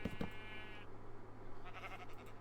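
Sheep bleat in Minecraft: a short pair of pixel-game bleats at the start, then a steady low hum and soft background noise.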